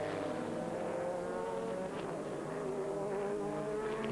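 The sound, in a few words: Ferrari GT race car passing on the Monza front straight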